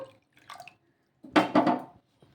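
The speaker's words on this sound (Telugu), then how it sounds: "ఒక కప్పు నీళ్ళు అయితే వేసుకుంటున్నాను" Water from a cup poured over poha, vermicelli and rava set to soak in a bowl: a few faint drips, then a louder splashing pour of about a second, close by and without talk.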